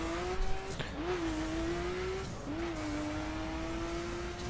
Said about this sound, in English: The Nissan Skyline GT-R R34.